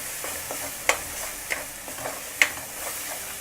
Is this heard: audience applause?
no